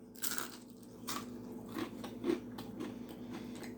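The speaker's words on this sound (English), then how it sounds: "Look at the crunch on that." Crispy fried chicken is bitten and chewed up close, with several loud crunches and crackles in uneven bursts and no talking.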